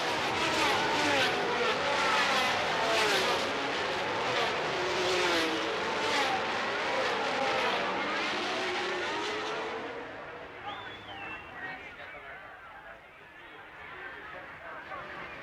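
Formula 1 race cars of 1979 roaring off the grid at the race start, a loud dense engine howl that fades after about ten seconds into distant engine noise, with commentary over it.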